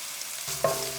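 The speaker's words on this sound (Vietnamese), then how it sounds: "Xào lên cho thơm." Shallot, garlic and ginger hit hot oil and begin stir-frying, giving a sudden close sizzle midway through that continues as a steady hiss.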